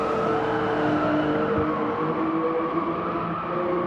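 Race car spinning out in a VR racing game, a loud sustained engine whine and tire noise that shifts in pitch as the car slides, continuous and close with no talk.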